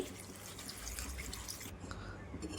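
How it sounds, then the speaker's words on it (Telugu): Water pours into a pot of mutton curry as a continuous, soft splashing rush that shifts in tone partway through, fairly quiet and close. "తగినన్ని వాటర్ అయితే వేసుకోండి."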